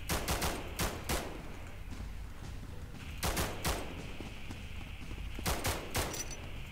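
Gunfire in the video game SCP 9 Tailed Fox comes in three clustered volleys of rapid sharp shots with quieter gaps between them, loud and close over a low ambient hum.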